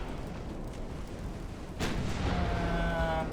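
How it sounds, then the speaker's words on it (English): A torpedo launch in the naval game Ultimate Admiral Dreadnoughts, a sudden broadband whoosh-burst about halfway through, followed by a sustained rumbling rush with a rising whine over steady low background battle noise. "another torpedo launch"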